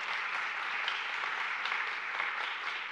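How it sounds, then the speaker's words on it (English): An audience at a Rotary club weekly meeting applauds, a steady, even patter of many hands that holds at a constant moderate level throughout, with no voices over it. "Please let's give a round of applause for Jeff Hildebrand for what he does."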